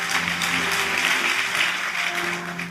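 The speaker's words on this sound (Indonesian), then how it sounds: "tepuk tanganlah Tuhan Yesus" Church congregation clapping during a sermon, a steady wash of applause with a sustained organ or keyboard tone underneath, loud and even for a few seconds.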